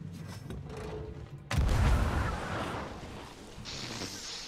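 A cannon in the pirate video game Sea of Thieves booms once with a sudden heavy blast that rolls into a low fading rumble, launching a player, preceded by quieter game ambience.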